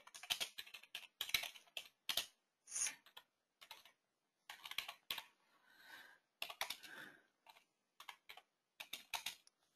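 Typing on a computer keyboard while entering a sales description in accounting software, bursts of close clicking keystrokes separated by short pauses, with no talk.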